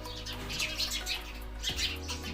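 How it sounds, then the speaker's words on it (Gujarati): Sparrows chirping in an early-morning village setting, a steady scatter of bright tweets over a continuous low hum, with no talk. "ચકલાનો અવાજ મસ્ત આવે છે"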